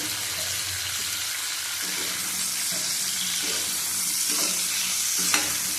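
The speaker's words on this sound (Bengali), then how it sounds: "ভালো করে ভেজে নেব" Green chillies and tomatoes fry in a pan for a hilsa fish and taro dish, with a steady sizzle and occasional stirring scrapes, moderately quiet and close.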